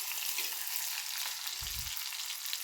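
Onions sauté in a pan for neem flower kuzhambu, giving a soft, steady sizzle with a brief low stir or scrape partway through, no talking.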